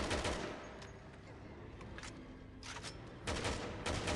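Dense automatic machine gun fire at zombies in Resident Evil 6, a steady roaring clatter throughout with heavier bursts near the end.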